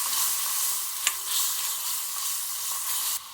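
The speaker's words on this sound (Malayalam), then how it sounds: "ഇതിൻ്റെ പച്ചമണം ഒന്ന് മാറുന്ന വരെ നന്നായിട്ട് വഴറ്റിയെടുക്കാം." Ground masala paste for prawn masala sautéing in a hot pan, a steady close sizzle and fry with occasional stirring scrapes, one sharp clink near the middle, no voices.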